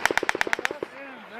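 A rapid burst of automatic gunfire, about a dozen sharp, evenly spaced shots close by, fades into a short ringing tail before one more shot, during a US Marine operation to clear an insurgent stronghold.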